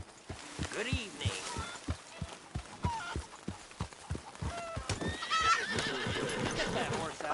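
A horse in a Western video game whinnies loudly over steady clip-clopping hooves, with a second shorter neigh near the end amid busy background noise.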